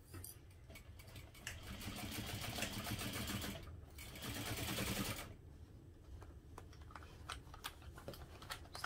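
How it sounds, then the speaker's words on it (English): A sewing machine stitches a half-inch seam on a holiday stocking, running in steady whirring bursts with a brief pause midway, then a lighter, ticking stretch as the fabric is adjusted; no speech. "now we're going to sew that together using a half inch seam allowance"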